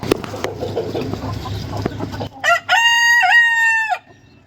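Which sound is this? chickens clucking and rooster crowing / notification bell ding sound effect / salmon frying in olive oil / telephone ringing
chickens clucking and rooster crowing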